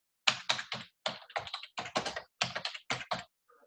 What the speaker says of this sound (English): I'll type that in here.